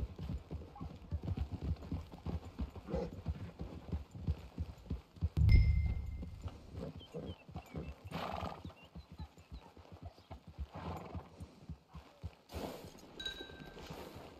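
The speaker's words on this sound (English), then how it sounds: "Hitch your horse." Horse hooves clop steadily in a video game at a camp with a hitching post, a continuous walking rhythm under ambient game sound with one louder thump midway; a person talks over it.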